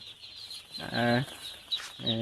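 Hybrid broiler chicks and chickens cluck and call at a poultry farm, a couple of short close calls over a soft background hum.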